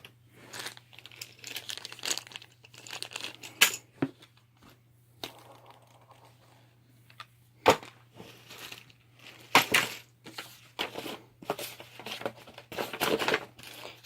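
Board game cards for a smuggling-themed game are shuffled and handled up close, giving crisp papery crinkles and flicks in irregular bursts with a few sharper snaps, over a steady low hum.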